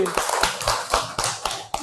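A classroom of pupils claps hands together in a quick, fairly regular burst of about eight sharp claps, close and loud, after a teacher prompts them.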